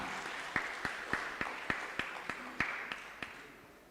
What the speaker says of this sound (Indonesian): Mana tepuk tangannya warga Tamalan Rea Indah?